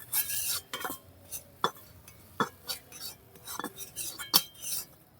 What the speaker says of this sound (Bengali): নারকেল দেওয়ার পরে এই যে নেড়ে চেড়ে